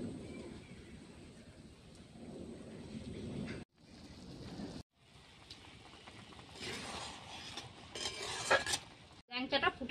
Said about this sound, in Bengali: এবার আমি ল্যাংচাগুলো চিনির শিরার মধ্যে দিয়ে দিচ্ছি।